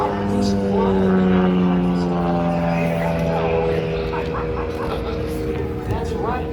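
A Super Decathlon tail-wheel airplane drones overhead at an airshow with a steady propeller engine tone that shifts in pitch as it passes, loud and continuous.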